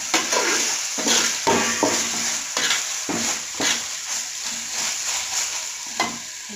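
Mint and coriander leaves sautéed with ginger in a pan for chicken biryani: a steady sizzle broken by regular scraping strokes of a spoon, about one every second, up close.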